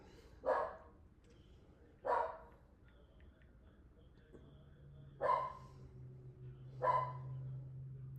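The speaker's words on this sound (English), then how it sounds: "My dogs are barking" A dog barks four times in spaced single barks at moderate distance, with a low steady hum underneath.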